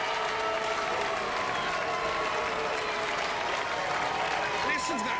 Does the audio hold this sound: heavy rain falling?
no